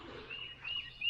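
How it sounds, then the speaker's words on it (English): Birds chirp faintly at a rural campsite on private property near a road, with thin, scattered high calls over a quiet outdoor background. "ton of bird noises and nature noises"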